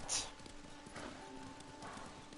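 Horse hooves clip-clop in the Ghost of Tsushima video game, a quiet rhythmic run of soft hoofbeats at a walking pace, with one brighter chirp-like sound near the start.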